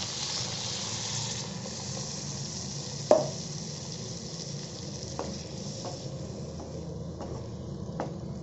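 Water poured into a pan of fried potatoes and peas for aalu matar paneer, a steady loud sizzle and hiss with a sharp splash early on, then scattered clinks of a utensil against the pan.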